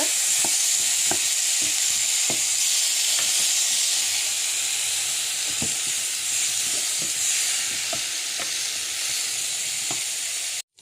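Cucumber stirred in a hot pan, with a loud continuous steamy hiss and sizzle and regular faint scrapes of a utensil through it, close by, ending abruptly.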